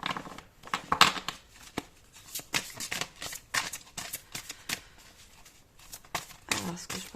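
Tarot cards shuffled and drawn by hand during a reading, with brisk riffling, slapping and papery flicks in irregular bursts, close up, while someone speaks French over them.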